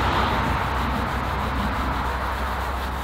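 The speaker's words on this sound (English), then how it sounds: "Oh, what do you think the bristles are doing? Just scrubbing." Brush bristles scrub across a car's surface in a continuous, even rasping rub, close and moderately loud, with no voices.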